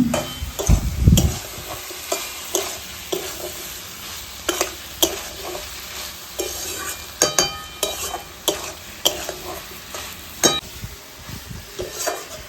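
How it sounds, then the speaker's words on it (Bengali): A spoon scrapes and stirs rice fried with ash gourd in ghee in a pan, steady sizzling underneath with repeated short clinks and scrapes against the metal, close and continuous without any voices. "চালটা দিয়ে আমি মিনিট 5 মতো কষিয়ে নিলাম।"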